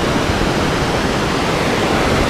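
Creek water squirting out of a rock above a waterfall, a loud, steady, close rushing hiss with no pauses or talk.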